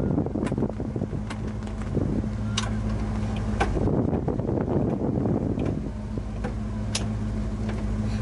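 Windshield wipers run on a 1965 Ford Mustang convertible, sweeping with a soft, regular swish and clunk every second or two over the steady low rumble of the idling car.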